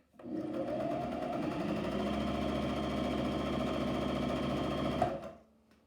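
A Janome 1000CPX stitching white fabric, with a close, steady motor whir and rapid needle chatter that run evenly for about five seconds and then wind down and stop.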